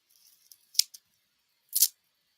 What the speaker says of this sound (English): I hate when my scissors get like that.